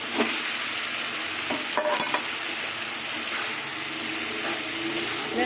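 Fish heads and eggplant fry in a pan while being stirred, a continuous close sizzle with occasional scraping knocks of the utensil and no talking.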